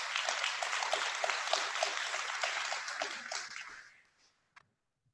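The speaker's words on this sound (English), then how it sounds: "Y'all should give yourselves a round of applause." Sustained audience applause at a keynote talk, dense and steady clapping from a crowd that carries for about four seconds, then fades out, followed by a single sharp clap near the end.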